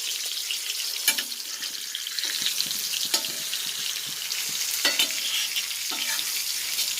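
Seer fish fries in hot coconut oil with a steady crackling sizzle and occasional sharper pops, close and fairly loud.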